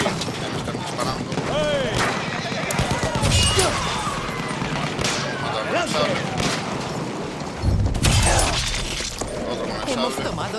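Battlefield 1 gunfire, with rapid shots, crashes and explosive bursts piling up in a busy, loud battle mix, heavy impacts near the three-second and eight-second marks.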